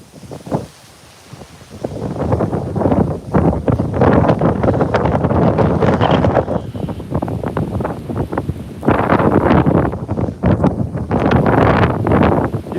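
Loud, gusty Hurricane Ian wind at Walt Disney World's Animal Kingdom Lodge buffets the microphone in heavy roaring bursts, with a brief lull partway through and rustling underneath.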